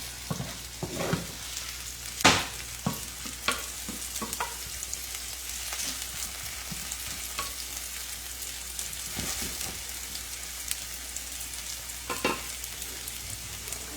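Ingredients sautéing in a pan for a creamy coconut shrimp pasta, a steady soft sizzle with occasional stirring clicks and taps, no voices.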